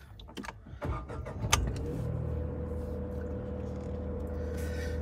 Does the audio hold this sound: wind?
no